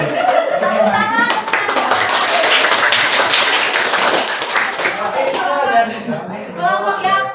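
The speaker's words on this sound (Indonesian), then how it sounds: "Tepuk tangan." Students in a classroom clap their hands together for several seconds, a lively patter of many hands with some laughter and voices mixed in at the start and end.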